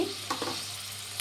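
Chopped tomato tipped into hot oil in a pan for garlic rice, giving a close, steady sizzle with a couple of quick stirring scrapes over a low hum.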